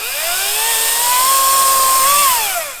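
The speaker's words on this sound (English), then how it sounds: "make some couple cuts here, and just get a feel for how this chainsaw cuts" An ECHO 58v cordless chainsaw cuts storm-damaged wood with a loud, steady electric whine that rises in pitch, holds for a couple of seconds, then falls away as the cut ends.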